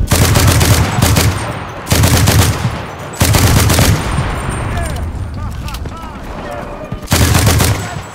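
M50 Reising submachine gun bursts are fired in a video game, loud and close. Four rapid strings of automatic fire are separated by short pauses, and a voice shouts between the bursts.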